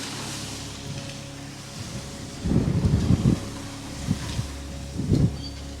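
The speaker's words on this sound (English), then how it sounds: "It's really windy today." Strong gusty wind outdoors at an abandoned ranch in California buffets the microphone, giving low rumbling bursts of wind noise that swell and fade several times over a steady background rush.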